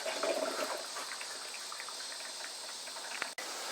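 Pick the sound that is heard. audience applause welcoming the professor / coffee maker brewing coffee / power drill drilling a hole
coffee maker brewing coffee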